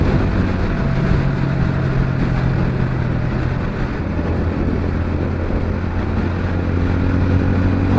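A TVS Ronin 225 TD Special Edition motorcycle cruises through traffic with a steady, smooth engine drone and faint shifting tones, carrying on continuously without pauses.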